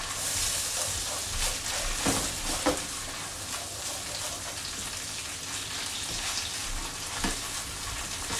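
About a tablespoon of garlic and ginger paste sizzles and fries in a pan while making butter chicken, a steady close crackle like rain with occasional louder pops and stirring.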